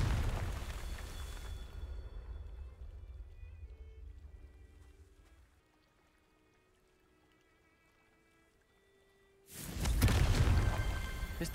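A Confringo fire spell explosion from Hogwarts Legacy bursts in loud and broadband after a quiet stretch, preceded by a rumbling, roaring buildup that fades away before the sudden blast near the end.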